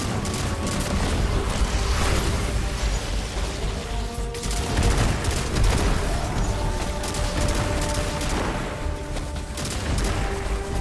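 Continuous gunfire and explosions in a Destiny dungeon fought solo as a Solar Hunter, with dense bursts of shots and booms filling the whole stretch at high, steady loudness.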